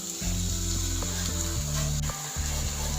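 Capsicum, onion and tomato sizzle steadily in a hot pan for farfalle pasta, a loud continuous frying hiss with brief clicks and short gaps.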